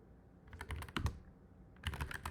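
Rapid keystrokes clatter on a computer keyboard as Python code is typed, two bursts of quick clicks separated by a short pause, close and fairly quiet.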